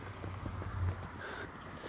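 Donkey hooves clip-clop at a walking pace, a soft, fairly even rhythm set against low background noise.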